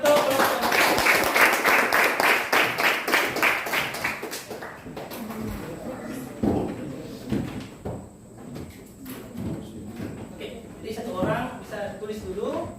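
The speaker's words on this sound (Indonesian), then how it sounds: "Tepuk tangan untuk kelompok 1." Classmates clap for group 1 in a school maths lesson, a dense burst of hand claps for about four seconds that then thins out into scattered taps, shuffling and a teacher's voice speaking over the room.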